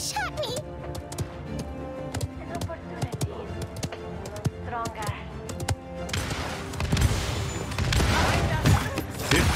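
Video game gunfire and impacts: scattered sharp shots and taps give way to a denser, louder burst of fire toward the end, mixed with game effects and a player speaking over it.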